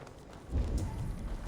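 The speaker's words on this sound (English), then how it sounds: "Now to deliver Magni his horse." Horse hooves clip-clop in Assassin's Creed Valhalla, a short run of soft, quick thuds on the ground that start after a brief quiet moment and continue steadily at moderate volume.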